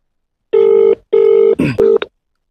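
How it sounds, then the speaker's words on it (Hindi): A telephone rings for an incoming call on a news broadcast, two long electronic ring bursts close and loud, followed by a short clicking pickup sound. "सुनील शर्मा जी इस समय हमारे साथ फोन कॉल पर जुड़े हैं।"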